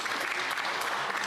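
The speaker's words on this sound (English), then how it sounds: "They're clapping for the mustache." Steady, dense clapping from many hands fills the chamber of Parliament, close and continuous without pause, with a voice faintly underneath.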